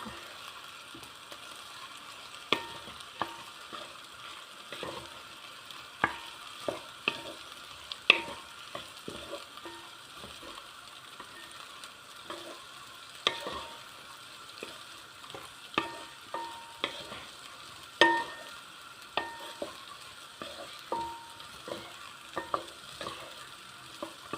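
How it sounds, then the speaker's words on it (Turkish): Green lentils being toasted and stirred in a pot, a soft steady sizzle broken by frequent sharp scraping clicks of the spoon against the pot, close and without talk. "yeşil mercimeklerimizi içine ekleyip biraz daha kavuruyoruz"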